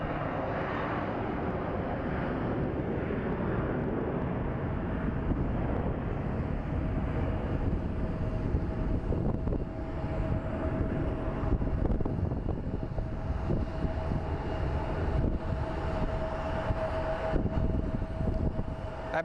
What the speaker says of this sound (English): listen to those engines purr